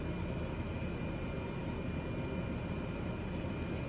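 Cessna 208B Caravan turboprop engine at full power in Microsoft Flight Simulator 2020, a steady broadband roar with a constant low drone, even and unbroken.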